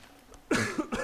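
A man coughs while recording a Horizon Zero Dawn gameplay session, giving a few quick, close, rough bursts after a quiet moment.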